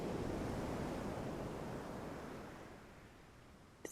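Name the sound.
sea waves on a beach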